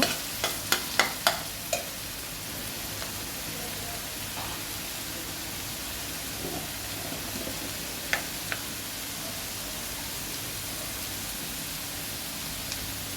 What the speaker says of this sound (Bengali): তো কিছুক্ষণ কষিয়ে আলু কুচিটা দিয়ে দিব